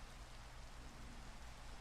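Steady rain falling, a dense even hiss of drops on surfaces with low rumble beneath, faint and continuous with no voices.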